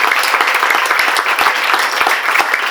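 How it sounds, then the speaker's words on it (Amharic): A church congregation at a second-anniversary thanksgiving service claps loudly and steadily, a dense wash of many hands applauding together with no speech over it. "ድጋሚ አጨብጭቡ አንዴ ለናዝሬቱ ለኢየሱስ።"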